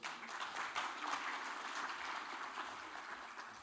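Faint, steady applause from a professional webinar audience welcoming a human resources association president, a continuous wash of distant clapping with no voices over it.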